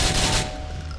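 Gunfire in Grand Theft Auto IV: a dense, loud burst of rapid shots fills the first half, then trails into lower rumbling echo with no talking.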